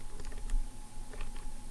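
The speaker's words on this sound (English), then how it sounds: "Hitting random keys on my keyboard." Quick, light clicks of fingers tapping a computer keyboard, a short irregular flurry of keystrokes close by and fairly quiet.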